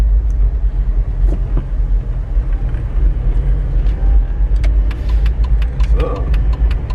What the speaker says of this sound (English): So, what we got here? A traffic jam.